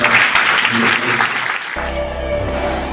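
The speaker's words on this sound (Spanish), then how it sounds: "le vamos a dar otro, otro aplauso" A university audience claps briefly at a presentation event. The dense clapping fills the first half, then gives way to a sustained tonal sound.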